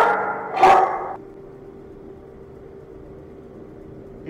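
A single sharp dog bark in a SirenHead horror video game, loud and brief near the start, followed by a quiet, hissy background with no talking.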